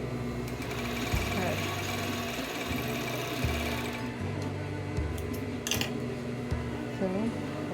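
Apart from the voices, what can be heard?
sewing machine sewing a kimono hem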